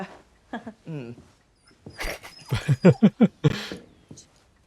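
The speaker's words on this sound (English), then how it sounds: "Cute dog." A dog whimpers and yips in a series of short high whines, close and fairly loud, mixed with brief human voices between the cries.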